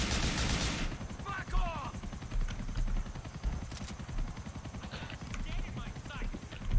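Rapid gunfire in GTA 4 aimed at the player, a dense run of sharp repeated shots rattling steadily through the whole stretch, moderately loud, with someone talking over it at times.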